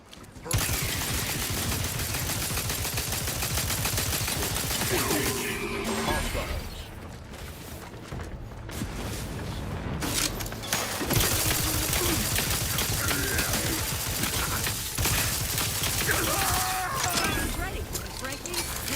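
A firefight in The Outer Worlds 2 brings loud, near bursts of rapid gunfire, repeated volleys with short pauses, over game sounds and a voice talking now and then.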